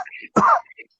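A single short, throaty cough bursts out close up, with faint breathy sounds before and after.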